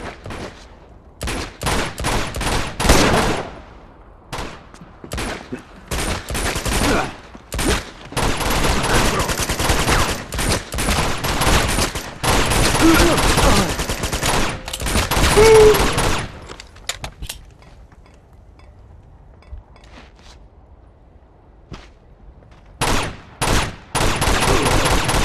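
Gunfire in the video game Uncharted 2: dense, rapid volleys of shots crackle almost continuously for about sixteen seconds, then pause before a few more bursts break out near the end.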